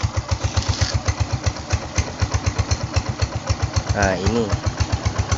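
Suzuki motorcycle engine idling close by after being started with a jumper wire, a fast, regular putt-putt thump, steady throughout, while someone speaks briefly in Indonesian over it.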